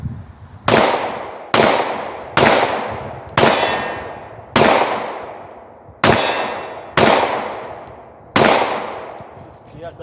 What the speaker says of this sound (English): I'm going to fire a couple of shots with the 9 millimeter.